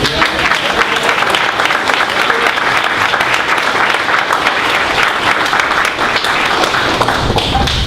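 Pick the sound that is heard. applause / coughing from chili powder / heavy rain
applause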